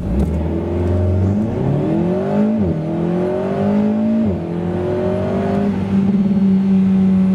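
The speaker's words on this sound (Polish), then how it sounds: "Tak auto przyspiesza od 0 do setki." An Alpine A110 R with a 1.8-litre 300 hp engine accelerates hard from standstill to 100 km/h, its engine note climbing through gears with two sharp upshift drops, loud and steady from inside, no voices.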